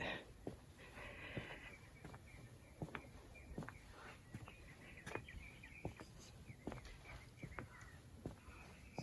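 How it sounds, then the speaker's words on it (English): Faint birdsong chirps in the background alongside scattered clicks and soft footsteps, in a quiet garden in March. "Hear the bird song."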